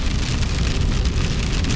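Heavy rain pours down steadily during a storm in northeastern Wyoming, a dense, loud hiss of drops drumming on surfaces with a low rumble underneath and no voices.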